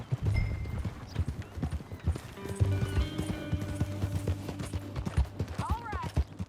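Horse hooves in Red Dead Redemption 2 video game clop in a quick, steady gallop rhythm close by, with a brief whinny near the end and faint voices in the background.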